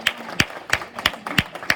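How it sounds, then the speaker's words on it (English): A seminar audience gives a round of applause, with clear, evenly spaced hand claps in a steady rhythm, fairly close and moderately loud, with no talking. "give her a big round of applause"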